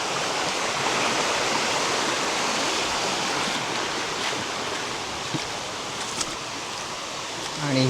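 River water flowing steadily and fairly close beside farm fields near a village, a continuous broadband rush with a few faint thumps and a brief low tone at the very end.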